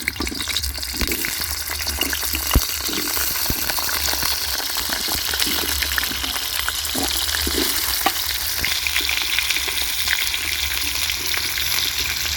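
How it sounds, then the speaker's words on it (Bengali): Potatoes frying in oil in a pan for a homemade chicken pulao, a steady close hiss of sizzling throughout with scattered small pops and occasional stirring scrapes, no talking. "এবার আমি আলুটা প্রথমে ভেজে নেব।"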